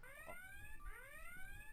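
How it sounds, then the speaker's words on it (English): An electronic alarm sounds throughout at low level, a repeating rising warble of tones with a steady, slightly wavering pitch, continuous and unaccompanied by talk. "You hear that alarm?"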